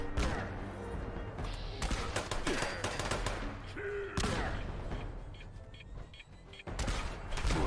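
Sniper rifle gunfire in Fallout 76, loud sharp cracking shots in clustered bursts with rapid follow-ups and brief pauses between volleys, up close.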